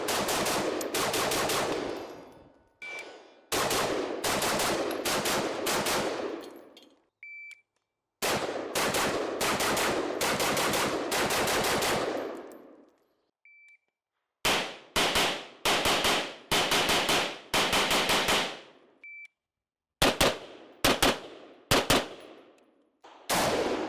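A Beretta ARX100 rifle firing PMC ammunition in several rapid strings of shots, loud and sharp, with short silent pauses between bursts and faint beeps in the gaps.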